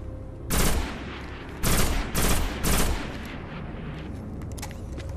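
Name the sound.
PSI Umbra pulse rifle firing in video game Destiny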